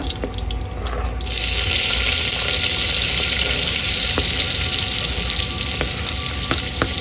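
Loud, steady sizzling of onion frying in hot oil bursts in after a second of quieter sound, with a few sharp pops, cooking outdoors on a balcony.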